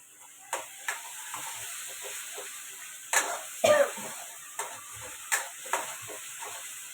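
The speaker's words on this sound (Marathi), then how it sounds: "तो सणकणे आवाज आला की फोडणी चांगली दिसली" Hot oil tempering (phodni) for a boiled potato curry sizzles with a low background hiss, broken by sharp crackling spits and pops that come in uneven bursts, fairly close and moderately loud.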